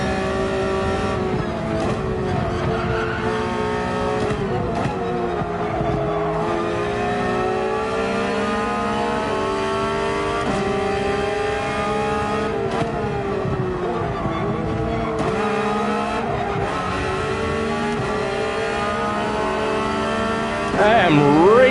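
A race car at Monza in Gran Turismo 7, engine droning loud and steady for the whole stretch with rising and falling revs through gear changes and braking, a voice talking quietly underneath.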